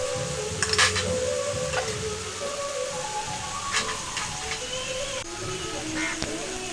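Tomato paste and turmeric going into a sizzling Bengali catla fish curry, with a steady hiss of frying, scraping stirs and clinks of a utensil against the pan.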